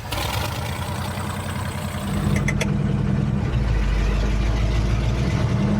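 A monster truck engine on giant 66-inch tires cranks over and catches, then settles into a loud, steady low rumble of idling that carries on to the end.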